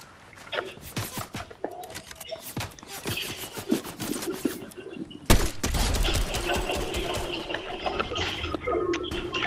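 Rapid bursts of gunfire from a Fortnite Chapter 5 match crackle throughout, with dense overlapping shots and a sharper blast near the middle, heard alone over steady game ambience.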